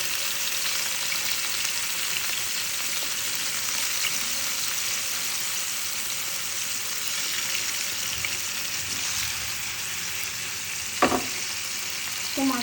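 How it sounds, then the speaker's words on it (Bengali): Pieces of katla fish fry in hot oil in a pan, giving a continuous, even sizzle that runs throughout. A brief utensil clink sounds near the end. "তো ঠিক আছে, ভেজে নিচ্ছি। একটু পাত্রে তেল দিয়ে দিলাম, তো তেলটা কিন্তু গরম হয়ে আসছে। এখন মাছগুলো দিয়ে দিই।"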